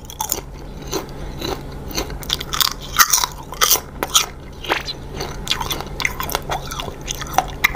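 Kaffir lime fruit gives crisp, close-up crunches as it is bitten and chewed, with irregular sharp cracks between quieter chewing sounds and no talking.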